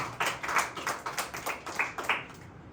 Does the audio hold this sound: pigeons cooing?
no